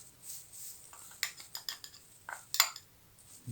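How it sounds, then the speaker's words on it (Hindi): A metal spoon clinks against a bowl several times as three spoonfuls of sifted gram flour go onto salted fish, giving short bright taps in an irregular rhythm at close range, with no talking. "3 चम्मच हमने ये बेसन इसके अंदर डाल दिए।"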